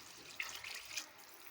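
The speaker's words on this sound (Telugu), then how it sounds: "ఇప్పుడు 2 గ్లాసులు వాటర్ వేస్తున్నాను" Water poured from a glass into a pot of spiced rice being cooked for fried rice, a soft steady splashing stream running alone for a second and a half.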